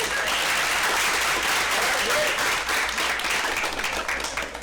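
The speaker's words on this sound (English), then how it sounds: "let's give us a round of applause" A room of attendees at a real estate sales seminar breaks into steady applause, dense continuous clapping filling the space with faint voices underneath.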